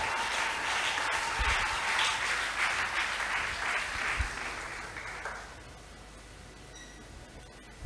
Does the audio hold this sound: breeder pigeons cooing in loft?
no